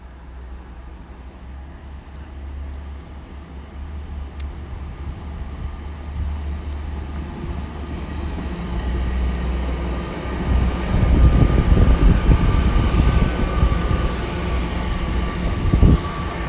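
GWR train approaching Exeter Central station on a diversion, climbing the bank: a low rumble builds steadily from quiet distant hum to a louder, nearer roar with rattling as it draws in.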